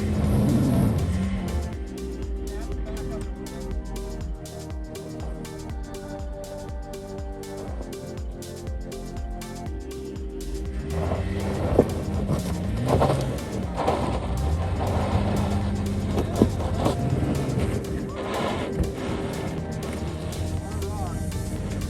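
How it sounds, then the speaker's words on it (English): VW Atlas Basecamp crawling off-road on a mountain trail with traction control off, engine droning and revving under tire crunch and knocking, with someone talking over it. "I've turned all traction control off now. Hopefully it'll let me build up some revs."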